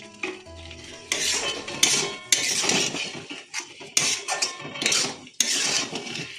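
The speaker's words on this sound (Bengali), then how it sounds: "নাড়তে নাড়তে গুড়টাও গলবে আস্তে আস্তে।" A spoon stirs a coconut and jaggery filling in milk in a metal pan, giving repeated close scraping strokes and clinks that come in bursts with short pauses, with no voices.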